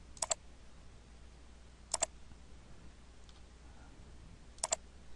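Three crisp double clicks from a computer mouse, evenly spaced about two seconds apart over a quiet room hum, close and distinct with no talking.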